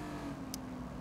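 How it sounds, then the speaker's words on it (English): A Lamborghini engine in the driving game City Car Driving holds a steady, fairly quiet drone with a low hum, with no clear rise in pitch over the brief moment. "This Lamborghini is so nice to drive. It's so fast, as you can see."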